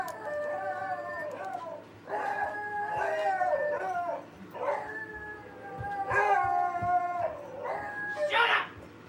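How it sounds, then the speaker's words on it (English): Beagles howl and bay in a series of drawn-out, wavering cries that rise and fall, fairly faint and set against a low background hum. "And somewhere in the dark, I thought I heard the dog bark."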